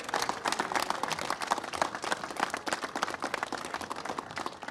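Elementary school students and teachers applaud at Firefighter Appreciation Day, a dense and steady patter of many hands clapping that continues throughout at moderate distance.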